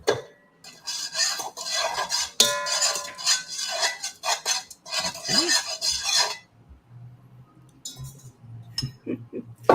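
A whisk scrapes briskly around a pan holding ingredients in a tablespoon of oil, for caramelized salmon, in repeated rasping bursts, then fades to quieter occasional metallic clinks.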